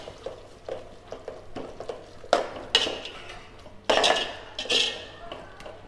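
A metal spoon scrapes and clinks around a pot of mushroom biryani masala with mint and coriander, giving a run of soft stirring strokes followed by several louder, sharper scrapes, close by with no voices.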